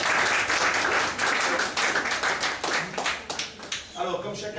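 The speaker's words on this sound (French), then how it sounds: "Je crois qu'on peut les applaudir aussi" An audience claps at a local flower-decorated facades event in Hamoir, a dense burst of applause that thins out near the end as voices and talk take over.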